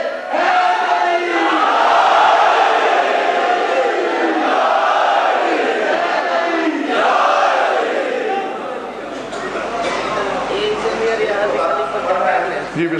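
A large crowd at a religious majlis shouts a rising communal slogan in unison, loud, voiced waves rolling over several seconds and then fading into a low murmur near the end.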